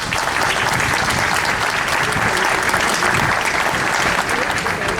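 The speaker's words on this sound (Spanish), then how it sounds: "Un aplauso para ellos." An outdoor audience at a popular tribute to Benito Pérez Galdós gives a sustained burst of clapping, dense and steady for several seconds.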